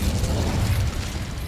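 An Incendio fire spell cast in a Hogwarts video game, a short, loud, rumbling burst of fiery noise lasting about a second and a half, heard alone.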